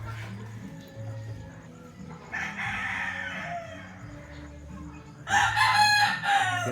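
A rooster crows loudly near the end, with quieter bird and farmyard sounds and low background rumble before it.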